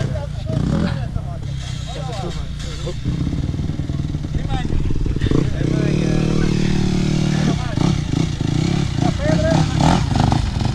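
A motorcycle engine runs close by during a Super Enduro training session, idling and revving in uneven bursts with clattering, while people talk over it for much of the time.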